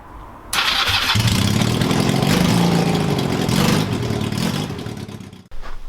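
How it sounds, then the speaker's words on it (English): A Honda CB250 scrambler motorcycle fires up and runs through an aftermarket exhaust, a loud, close, rough engine roar that holds steady for several seconds before cutting off abruptly. "I just wanted to see just how loud this bike is with this sort of exhaust"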